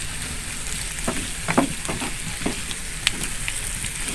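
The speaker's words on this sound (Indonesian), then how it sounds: "kita aduk terus ya guys sampai matang" Green beans, egg and tempeh stir-frying in a pan give a steady close sizzle, broken by several sharp scrapes and clacks as the mixture is stirred.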